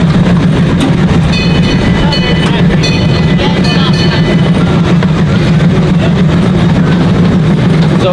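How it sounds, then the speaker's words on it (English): A small zoo train rolls along its rails at the Memphis Zoo during an evening lantern festival, a loud continuous low rumble with rattling and faint squeals throughout, heard from on board. "So glad I got to go on the train again."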